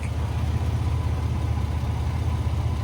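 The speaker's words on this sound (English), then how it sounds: "fix the annoying, obnoxious, sounds like a UPS truck with this type of exhaust leak" A low, steady engine idle of a Chevrolet Blazer with an exhaust leak, a rough, pulsing rumble, close and fairly loud, running without change throughout.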